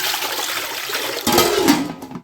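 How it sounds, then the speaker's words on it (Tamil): Water pours and splashes steadily into a cooking pot close by, the sound shifting partway through as the stream hits; no voices. "குடல் முங்குற அளவுக்கு தண்ணி வச்சுருக்கோம்"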